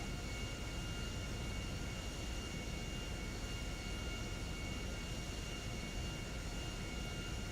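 An airplane taxis to the runway in a flight video game, heard as a constant, loud engine drone with a thin steady whine and no change across the clip, with no voices.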